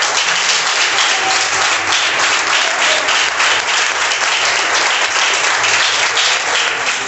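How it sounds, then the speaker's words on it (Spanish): A church congregation applauds steadily and loudly at an evening worship service, the clapping dense and sustained throughout with no break. "denle un aplauso al Señor."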